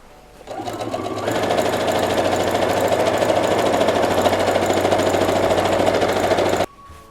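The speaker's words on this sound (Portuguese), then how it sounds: "E vamos à máquina novamente, mesma coisa, passa a costura" A sewing machine stitches a fabric strip for a Seminole patchwork border on a dish towel, whirring in a fast, even rhythm for about six seconds before stopping abruptly.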